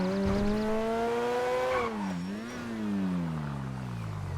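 A GTA 5 car engine revs hard then winds down, the pitch climbing, dropping and easing back up in a steady loud drone with a faint whine above.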